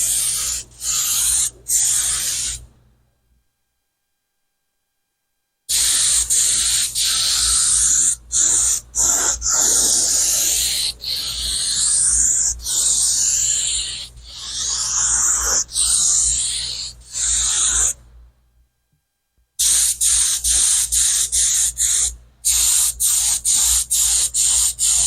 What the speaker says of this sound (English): This little spot gun doesn't create a lot of overspray, a lot of stuff in the air.